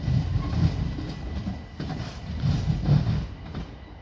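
A passenger train pulls slowly away from Lewes station past a junction, its low rumbling and wheel clatter steady and fairly close, with no one speaking.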